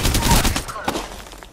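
Gunfire hitting the player during a video game arena match, a quick burst of sharp shots at the start fading into scattered hits, with a voice briefly speaking.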